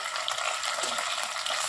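Ginger garlic paste frying in hot oil for a coriander chicken curry, a steady close broadband sizzle with soft crackles, heard alone without talk.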